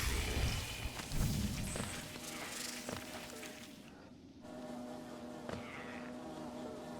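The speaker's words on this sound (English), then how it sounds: "Oh, bees!" Buzzing bees in the Hollow Knight video game, a steady insect drone with flitting whooshes and occasional thuds, briefly dropping out before resuming.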